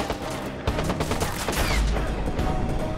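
Rapid Scorpion SMG bursts rattle out in Watch Dogs, a continuous crackle of automatic fire with no talking over it.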